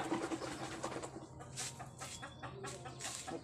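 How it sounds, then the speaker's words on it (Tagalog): Pet chickens cluck in a short, busy run of calls, close by and fairly soft, with brief bird chatter and scratchy movement in the background. "Lipada ng mga alagang manok."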